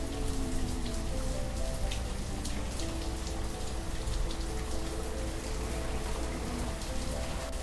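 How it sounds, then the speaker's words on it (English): Steady pouring rain in the city-building game Banished, a dense, continuous patter of raindrops on surfaces at an even level throughout, with no voices. "I mean, it's pouring down rain."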